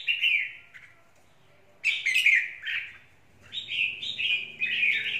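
A caged red-whiskered bulbul from the limestone mountains of Lạng Sơn sings in bright, close chirping phrases, pausing briefly between bursts before carrying on with repeated whistled notes.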